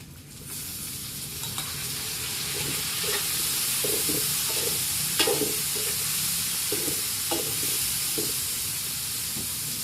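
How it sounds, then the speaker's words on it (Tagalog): Tomatoes cooking with onion and garlic in a hot pan, heard as a loud continuous sizzle and hiss with scattered scraping stirs and small pops throughout. "Lulutuin po muna natin ang kamatis bago natin ilagay ang balaw."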